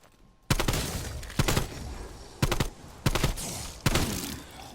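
Five short bursts of rifle fire from an AKS-74U carbine in a video game, each a loud close rattle of rapid shots separated by brief pauses, with no talking.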